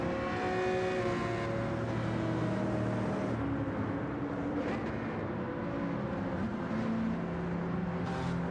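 Front-engine Ferrari V12 from Gran Turismo 7 in a racing game, droning steadily with layered harmonic tones that rise and shift as it accelerates, loud and close throughout with no talk.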